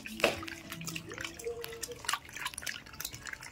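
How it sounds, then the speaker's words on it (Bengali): Water running and splashing as a ripe jackfruit flower is washed, short drips and trickles near and fairly quiet, with a brief tonal squeak, no talking. "এটা ধুয়ে নিচ্ছি ভালো করে।"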